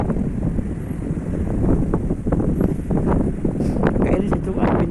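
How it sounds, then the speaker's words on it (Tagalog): Cold winter wind at about 2 degrees Celsius blusters against the microphone outdoors among snow-whitened rooftops, a steady low rumble with gusty surges beneath intermittent talking. "Mahangin nga."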